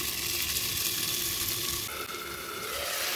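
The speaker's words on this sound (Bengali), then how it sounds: "এবার কিছুক্ষণের জন্য আলুটা সিদ্ধ হতে দেব।" Potatoes cook in a pan with a continuous loud hiss and sizzle, a close, dense frying sound that holds steady throughout with a slight shift in texture partway.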